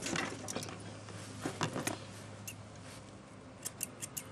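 Close, crisp snipping of scissors trimming the fur on a Border Collie's feet, a quick run of small cuts over a steady low room hum, with a cluster of snips toward the end.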